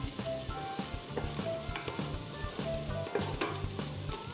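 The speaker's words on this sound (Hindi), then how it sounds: "प्याज को हम अच्छे से ब्राउन होने तक फ्राई करेंगे" Onions fry and are stirred in a pan for chicken curry, a constant close sizzle with rhythmic spoon scrapes and clanks against the pan, partly under background music, with no talking.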